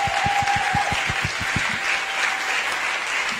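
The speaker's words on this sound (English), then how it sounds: "let's give Ibrahim Muhammad a round of applause" A burst of applause from an audience at an arts studio in Tamale, steady clapping that carries on for a few seconds without voices over it.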